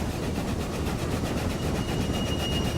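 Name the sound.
wool and fish train passing in Railway Empire video game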